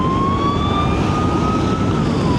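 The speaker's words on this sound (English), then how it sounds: "here comes the ambulance past" An ambulance siren wails past in the snow, a loud steady tone that bends downward in pitch as it goes by, over heavy rumbling road and wind noise.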